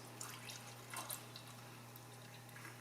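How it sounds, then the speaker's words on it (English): Hot browned butter is poured into small jars while canning butter, giving faint liquid pouring and dripping sounds with light clinks over a low steady hum. "I'm ready to pour this hot butter into my little jars."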